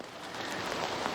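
Rain falls outdoors, a steady close patter of drops hitting surfaces, heard alone for a brief moment.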